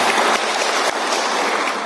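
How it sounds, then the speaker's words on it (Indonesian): Audience applause at a district meeting in Kabupaten Bandung for Kecamatan Cimenyan, a dense burst of many hands clapping, loud and close, fading slightly toward the end. "Tepuk tangan buat Kecamatan Cimenyan ya"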